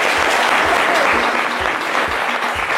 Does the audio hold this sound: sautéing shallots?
no